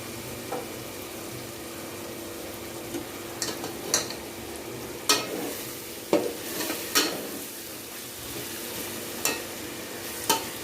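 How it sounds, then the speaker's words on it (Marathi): Whole spices and bay leaves frying gently in oil on low gas for veg pulao, a soft, low sizzle punctuated by occasional sharp clinks of a spoon against the pot. "मी हे जे मसाले ना थोडेसे कमी गॅसवर भाजते"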